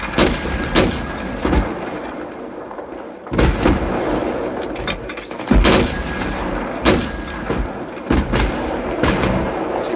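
Mortar fire in a video game: repeated heavy booming thumps at irregular intervals, each a broad loud impact over a constant rumbling background.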